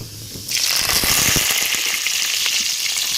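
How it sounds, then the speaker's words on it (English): Cumin seeds and curry leaves hit hot neutral cold-pressed oil in a kadai, bursting into a loud, crackling sizzle after a brief quiet start, with sharp pops scattered through a steady hiss. "Add cumin, curry leaf,"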